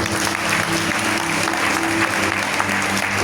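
Church congregation applauding in praise of the Lord, steady and sustained clapping from a large crowd, with a faint hum of voices beneath.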